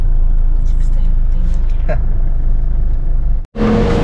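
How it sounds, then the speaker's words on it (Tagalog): Evening traffic on a Manila road rumbles steadily close by, with engines droning under voices talking and a sudden cut near the end before the noise resumes. "Bumabalik na naman ang realidad ng Maynila. Yung traffic."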